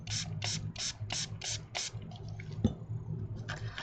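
A small travel-size spray mister bottle sprays water in six quick, evenly spaced hissing squirts close by, followed by quieter handling noises and a few fainter sprays.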